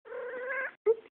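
A cat in heat lets out a long, loud wavering yowl, then after a brief pause a second, shorter rising cry, both close and clear with no voices over them.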